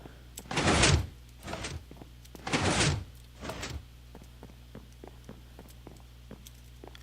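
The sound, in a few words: door at the front of the house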